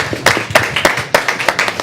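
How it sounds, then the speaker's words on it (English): Audience at a Johnson City Board of Commissioners meeting clapping, a close, loud, uneven run of hand claps with a few sharp individual strikes standing out, no talk. "That's where you clap."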